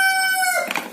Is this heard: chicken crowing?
yes